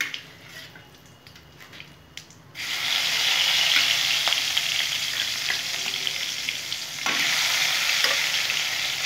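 Fresh tengra fish frying in a pan, a steady, close sizzle that jumps louder after a quieter start and holds bright and dense throughout with faint spatula scrapes.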